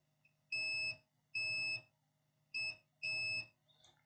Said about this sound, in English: it's beeping here.